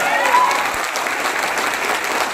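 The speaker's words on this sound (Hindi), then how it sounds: "जोरदार ताली होना चाहिए" An audience at a leadership recognition event in Guwahati, Assam breaks into strong applause, a loud, even burst of clapping filling the whole short span.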